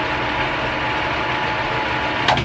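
A Schaublin 102N-VM lathe runs with a steady mechanical hum and whir as its clutch and brake operate, close and loud, with a brief sharper engagement near the end.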